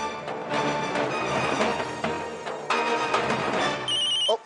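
A telephone rings steadily and loudly for several seconds, a continuous electronic trill, before cutting off abruptly.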